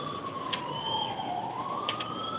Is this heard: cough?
no